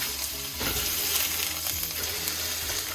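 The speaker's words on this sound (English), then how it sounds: "It's gonna sizzle, it's gonna give you that very like good meaty and smoky smell" A smash burger patty sizzles in butter on a hot griddle, a dense, steady crackling hiss with popping fat, close and continuous.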